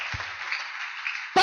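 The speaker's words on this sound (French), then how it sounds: "Applaudissons fort le Seigneur" Church congregation clapping along during a sermon, a brief dense burst of many hands applauding at moderate loudness, ending with a sudden thump.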